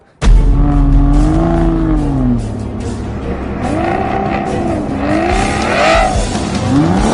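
An Audi R8 V10 Plus at full throttle on a race track, its engine note rising and falling through gear changes with occasional tire squeal, loud and close for the whole stretch.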